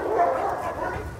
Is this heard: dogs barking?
yes